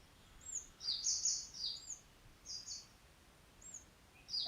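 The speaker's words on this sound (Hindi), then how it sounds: "चहकते हुए पंछी" Small birds chirp and tweet in a quiet outdoor setting, with several short bright calls repeating irregularly over a soft background hiss, fairly faint and distant.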